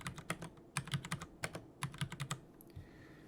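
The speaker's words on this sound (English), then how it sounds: "In this menu, you can type in exact values for the asset's dimensions," Exact dimension values are typed on a computer keyboard into a lab design tool's asset menu, a close run of crisp, rapid key clicks in uneven clusters that trails off near the end, with no voice.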